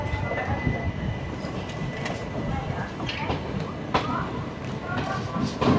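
Mumbai CSMT to Chennai Egmore 22157 Mail superfast express pulling out of Guntakal Junction, a steady loud rumble of rolling coaches with faint clanks and squeals riding over it throughout.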